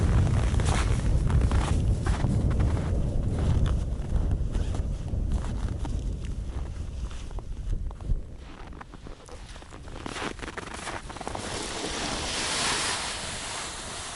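Cold wind blows at a lakeside spot where pike traps are being set near a beaver lodge. Gusts buffet the microphone in a constant broadband rush, strongest at the start, easing midway, then swelling again.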